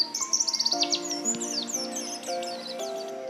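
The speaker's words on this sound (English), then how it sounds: "Wabbling white eye. It is a very sociable species." Small white-eye birds call in a rapid run of high chirps, followed by scattered tweets over a sustained tonal background, fairly close and clear.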